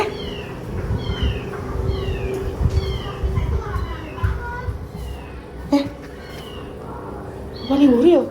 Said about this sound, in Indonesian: Ning kita suara bayi kucing kok.